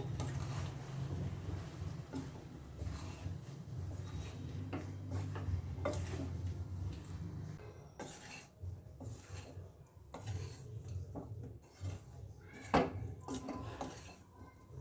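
Ground masala being mixed into a bitter gourd curry in a pan, with steady metallic scraping and clinking of a spoon against the pan, close and alone.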